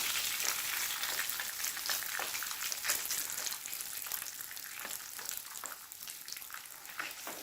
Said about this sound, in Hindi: अब इसके अंदर मैं नशास्ता ऐड करती हूँ।